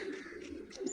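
Soft, low pigeon coos rolling continuously at close range, a steady murmuring flock sound with a faint higher chirp near the end.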